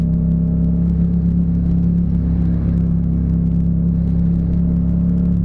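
A Yamaha MT-07 motorcycle with a sports exhaust rides in second gear, giving a steady, loud, low engine rumble throughout with no clear revving.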